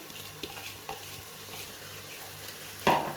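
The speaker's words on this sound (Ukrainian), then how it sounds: "Тепер сюди ж, де смажилось м'яско, висипаю всю цибулю." Chopped onion sizzles as it fries in a multicooker pot where meat was just browned, with a steady soft crackle, a few light scraping stirs, and a louder clatter near the end.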